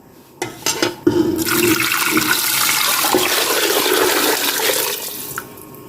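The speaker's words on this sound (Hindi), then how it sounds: "अब इसमें हम डालेंगे पानी।" Water pours steadily into a pot of mutton paya soup for several seconds, a loud rushing splash that fades out at the end, preceded by a few brief clinks.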